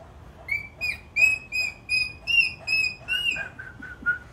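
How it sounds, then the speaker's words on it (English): A child whistles a series of about eight short, clear notes in a steady rhythm, slightly wavering in pitch, close and fairly soft with no talking over them. "I can whistle"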